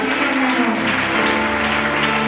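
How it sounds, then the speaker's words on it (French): A church congregation at a recollection gathering applauds loudly and steadily, a dense wash of clapping filling the whole stretch with a sustained musical tone running underneath. "Acclame très fort pour la parole du Seigneur."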